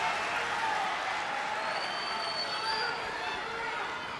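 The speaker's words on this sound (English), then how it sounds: "Center crowd making some noise" Crowd noise in the arena during an Iowa versus Ohio State college wrestling dual meet, a sustained roar of cheering and clapping that holds steady throughout, broad and fairly loud with a few whistles and shouts rising above it.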